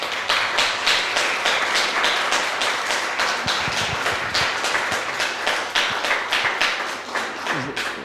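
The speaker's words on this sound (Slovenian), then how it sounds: "Mislim, da si zaslužite dejansko aplavz." Audience applause for the speakers at a round-table panel on Slovenian national identity and the media's influence, a dense, steady wash of many hands clapping throughout, loud and sustained with no talk.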